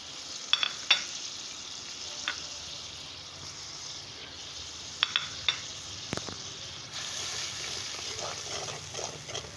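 Dry spice masala fries in a pan for an aloo and shimla mirch sabzi, a low steady sizzle broken by sharp spatula clacks and scrapes against the metal, near and fairly quiet.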